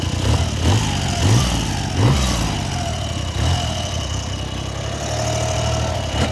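A 1971 Triumph Trident 750 three-cylinder, five-speed motorcycle engine running close by, with several rhythmic revs early on before settling into a steady idle, and no talk.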